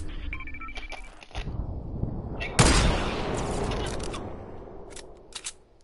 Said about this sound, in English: There's some exploding rockets over there, Zane.